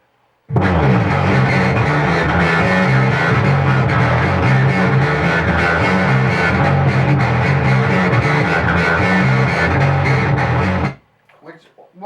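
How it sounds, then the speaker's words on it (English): Bass guitar processed through a Sherman filterbank, giving a dense, heavily filtered and distorted tone that plays loud and continuously for about ten seconds before stopping abruptly. "So the new bass through the Sherman filterbank"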